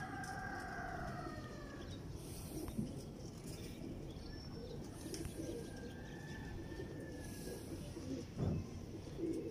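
Salara teddy breeder pigeon cooing in repeated soft, low coos, close by over a steady background hiss, with no talk.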